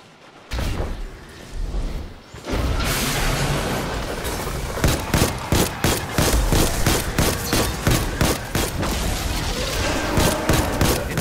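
Incoming missiles exploding in Destiny 2, a heavy boom followed by a long rapid barrage of loud blasts and gunfire-like bursts hammering in close succession.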